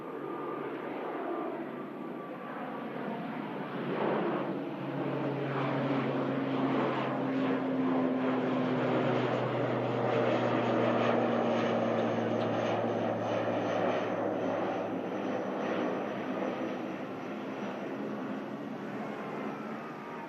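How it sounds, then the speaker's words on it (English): ATR turboprop aircraft taxiing at Manchester Airport, its propeller engines droning loudly and steadily with shifting tonal whine as it rolls out, heard from a distance outdoors. "as the ATR heads out to the Isle of Man"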